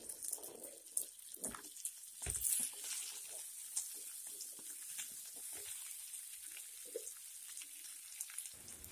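Onions and spices frying in a pan for a drumstick curry, a soft, steady sizzle with scattered crackles and a few stirring clatters near the start.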